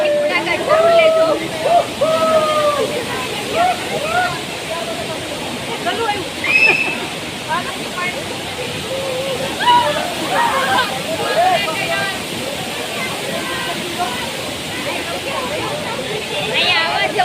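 A waterfall stream pours down from above at a Mussoorie viewpoint, a continuous broad rushing wash with sloshing, while people talk over it and voices babble in the background.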